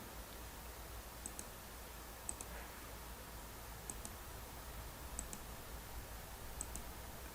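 Sharp mouse clicks in small pairs, roughly five of them spaced a second or so apart, faint against a steady low hum while points are picked along construction lines in rebar detailing drawing software.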